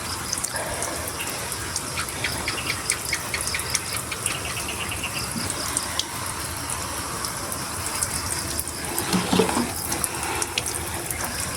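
Water running steadily while a vegetable garden is watered outdoors, a continuous hissing splash with insects chirping in the background and no talk.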